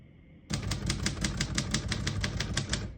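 Rapid, even keystrokes on a 1957 Royal Quiet De Luxe portable typewriter, a dozen crisp clacks in a steady run, loud and close, with no talk.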